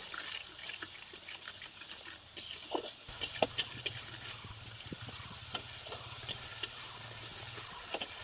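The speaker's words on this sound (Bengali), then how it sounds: "এখন মশলাটাকে একটু ভেজে নেব" Soft, steady sizzling of a spice paste with turmeric and salt frying in a pan, with occasional clicks and scrapes of stirring and a low hum underneath.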